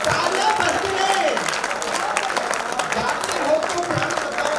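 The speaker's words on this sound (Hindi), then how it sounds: "तालियां बजती रहे, तालियां बजती रहे।" An audience at a Hindi poetry recital claps in sustained applause, a dense patter of hands with a voice speaking over it.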